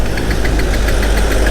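A Bajaj Pulsar NS125 motorcycle engine running out of petrol gives a loud, close, steady knocking rumble that holds without a break.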